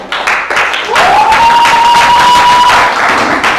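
A class of students applauds at the end of a lesson with close, steady clapping. A sustained whistle-like tone runs over the middle of it.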